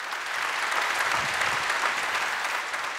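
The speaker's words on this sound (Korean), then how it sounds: "다시 한번 큰 박수 부탁드립니다." Audience applause at a panel discussion on a new-virus vaccine session, steady dense clapping from a large crowd lasting the full three seconds without talk.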